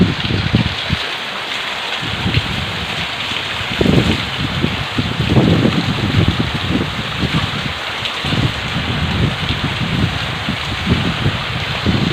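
Heavy rain pours on Kamalapur town in Kalaburagi district, flooding houses, in a constant dense roar, with occasional louder splashing gusts rising and falling throughout.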